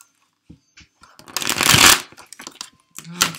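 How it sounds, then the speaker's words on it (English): A few soft taps of tarot cards, then a loud, close riffle of shuffling cards lasting about a second, followed by a couple more shuffles. "I can't shuffle these cards today."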